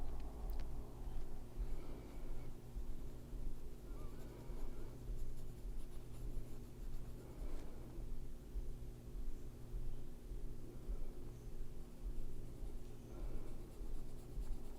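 A white wax-based colored pencil rasps across paper in close, repeated strokes that keep an even back-and-forth rhythm for about fifteen seconds over a constant low background hum, with no speech.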